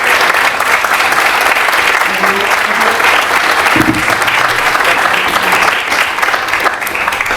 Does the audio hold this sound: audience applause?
yes